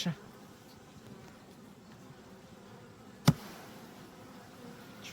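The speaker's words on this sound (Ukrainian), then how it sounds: "вони обеспокоєні ці бджоли" A steady, dense drone of many agitated honey bees buzzing close by, constant throughout, with one brief soft knock partway through.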